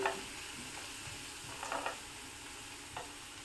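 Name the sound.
sautéing garlic in a pan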